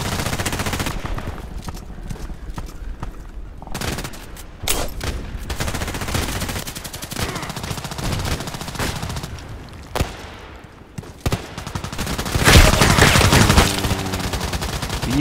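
Game gunfire from an MP7 submachine gun in the shooter Contract Wars: repeated bursts of shots, loudest near the end, over a busy backdrop of battle noise.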